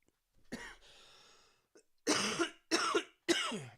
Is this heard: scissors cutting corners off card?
no